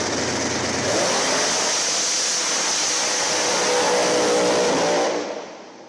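Small tire drag race cars at full throttle in a finals race, a loud sustained engine roar of accelerating cars filling the whole stretch before fading off at the end.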